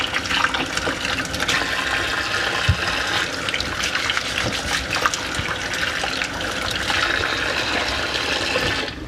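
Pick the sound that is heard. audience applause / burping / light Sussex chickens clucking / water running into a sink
water running into a sink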